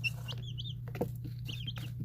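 Young chicks give soft, high peeping chirps in short bursts with a faint low cluck, close by, over a steady electrical hum.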